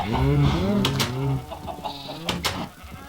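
Chickens cluck and bawk in Minecraft, several close, rhythmic calls rising and falling over a few seconds, with a couple of sharp clicky game sounds mixed in and no speech over them.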